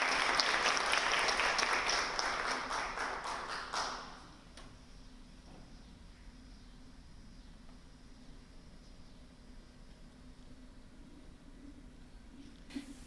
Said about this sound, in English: So please, let's give a warm round of applause to Jakaya Sutton.